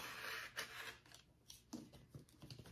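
A dull blade slices through bag lining fabric during sewing prep, giving a few dry snipping and rasping strokes near and fairly quiet, with soft handling noise between cuts.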